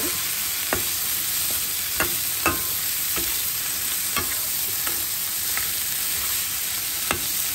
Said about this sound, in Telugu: 5 to 10 minutes ఫ్రై చేసుకోవాలి